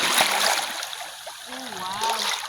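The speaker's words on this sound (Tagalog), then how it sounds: "Ang dagat magalaw." Rough sea water splashing and washing on a white-sand beach, a steady loud wash of surf with a person talking over it.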